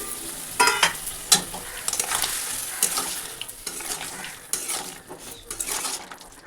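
Boiled potato and bottle gourd with fried lentil bori stirred in a pan with garlic paste, a low sizzle under repeated clattering spatula scrapes and knocks against metal, close by, no voices.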